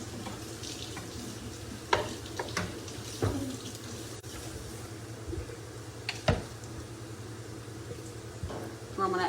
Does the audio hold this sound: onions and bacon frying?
yes